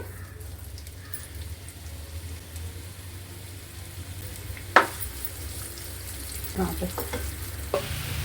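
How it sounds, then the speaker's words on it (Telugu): Onions frying in a small amount of oil in a pan, a steady soft sizzle running throughout with a sharp stir or scrape near the middle and a few lighter clinks toward the end. "మన ఉల్లిపాయలు వేగుతున్నాయండి"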